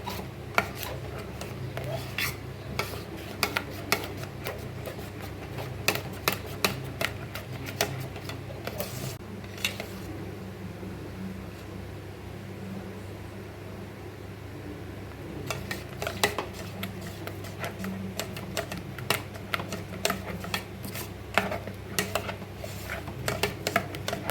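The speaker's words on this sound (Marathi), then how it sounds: "असा चमचा फिरवतच राहायचा की त्याच्या गुठळ्या नाही झाल्या पाहिजे" A spoon keeps scraping and knocking around a pot of cooking wheat flour mixture, steady close clicks and taps repeating over a low background hum, with a brief quieter stretch in the middle.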